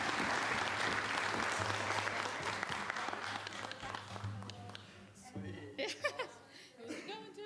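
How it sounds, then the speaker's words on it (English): A crowd claps steadily and fairly loudly, then the applause fades into laughter and chatter from several people. "Can we get a round of applause?"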